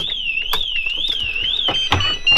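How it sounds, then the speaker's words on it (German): Pandora Camper Pro V2 vehicle alarm going off inside a Mobilvetta K-Yacht camper: a loud, close, continuous warbling siren that rises and falls steadily throughout, with brief clicks near the end. "Alleine schon wegen Zündung an, kommt schon gleich der Alarm."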